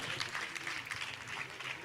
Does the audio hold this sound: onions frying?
no